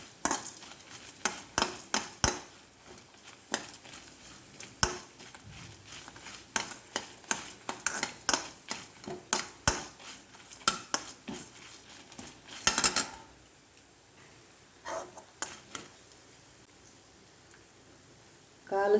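Coriander seeds roasting in a pan over a low flame and being stirred, with irregular close clinks and scrapes of a spoon against metal and a faint sizzle beneath, pausing briefly before resuming.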